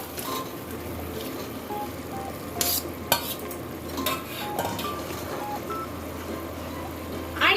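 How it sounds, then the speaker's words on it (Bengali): Fried pakoras added to a simmering curry and stirred, with a soft bubbling sizzle, spoon clinks and scrapes against the pot, and a few sharp metallic knocks. "এবারে ভেজে রাখা পকোড়াগুলো দিয়ে দেবো"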